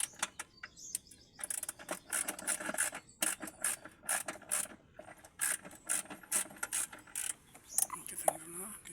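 Plastic trim and parts being pried and pulled from the dashboard of a 2018 Toyota Vios during evaporator removal, giving a run of close, sharp clicks, snaps and scraping rattles in irregular bursts, with short pauses between them.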